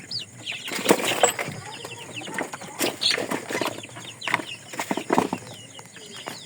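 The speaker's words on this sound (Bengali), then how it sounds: "এগুলো সব দেশি মুরগি" Native desi chickens cluck and rustle in a lively farmyard, with scattered calls and wing flaps rising and falling close by amid general background noise.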